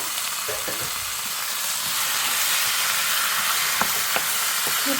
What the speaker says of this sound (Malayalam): വൃത്തിയാക്കി വെച്ച് ചിക്കൻ അതിലേക്ക് ചേർത്ത് കൊടുക്കുക